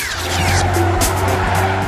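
A car drifting in the racing video game Juiced 2: a loud, steady engine roar under a long tire squeal, close and continuous for a couple of seconds.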